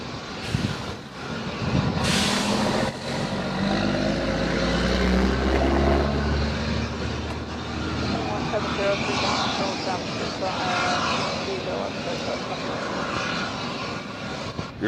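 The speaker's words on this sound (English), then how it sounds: "Delta Connection Flight 3729 going to JFK and Embraer E175LR" Embraer E175LR jet airliner on a Delta Connection flight bound for JFK, a steady, loud engine roar that holds for the whole stretch, with a heavy low rumble early on, faint radio chatter and talk underneath.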